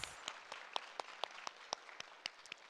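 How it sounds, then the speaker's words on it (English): Scattered applause at a GirlPower 2026 event, a few sharp separate claps in a loose steady beat over a quiet room, faint and thin rather than a full ovation. "I think that also deserves a hearty round of applause"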